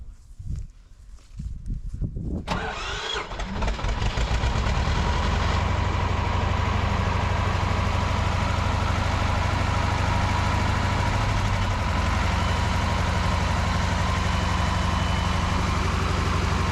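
An old T-25 tractor engine cranks and catches after a couple of seconds, then settles into a loud, steady, rumbling idle close by for the rest of the stretch.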